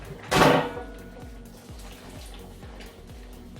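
Water is poured into a pan of tomato sauce in a short, loud splash near the start, followed by quieter rhythmic kitchen sounds, and a voice briefly speaks.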